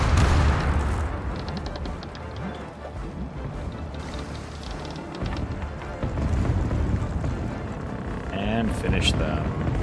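A sailing warship's side cannons fire during a naval battle against the Dutch navy in the Caribbean Legend video game: heavy booms over wind and sea noise, with a louder burst near the end.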